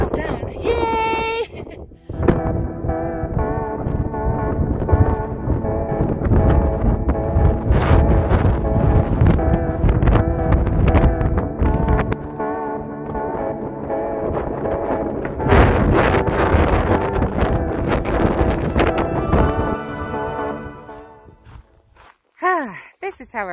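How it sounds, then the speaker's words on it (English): Strong wind buffets the microphone on a mountain trail up San Gorgonio Peak, a continuous loud roar with footsteps crunching throughout. "that's so super crazy windy"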